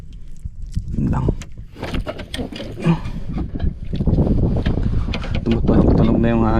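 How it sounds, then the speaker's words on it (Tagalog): Strong wind gusts blow across the microphone during fishing from a boat on open water, a low rumbling roar that builds and stays heavy, with someone talking over it. "Tumutunog na yung hangin mga master."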